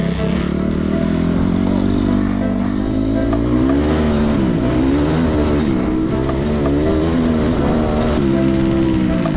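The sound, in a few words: enduro motorbike engine riding without clutch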